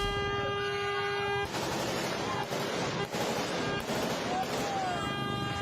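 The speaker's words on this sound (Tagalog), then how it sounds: "Sunod-sunod na putok ng baril ang umalingaw-ngaw sa Barangay Kapihan" A rapid series of sharp, tinny gunshots rings out after a quiet moment, sounding distant and muffled, captured on CCTV in Barangay Kapihan.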